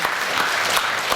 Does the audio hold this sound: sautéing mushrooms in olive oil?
no